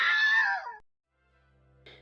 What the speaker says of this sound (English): today we're hearing about the Wilhelm Scream